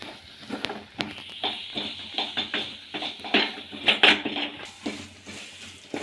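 Chilli powder and garam masala being fried in a pan, with steady scraping and clinking of a spatula against metal and a soft continuous sizzle, no voices.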